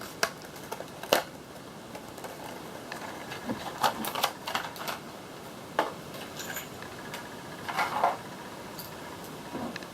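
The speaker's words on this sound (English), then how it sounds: "So I'm going to destroy this box, so forgive me." A plastic-taped cardboard box for a Clan Tech figure being torn open, with irregular ripping, crackling and snapping bursts scattered through, close by.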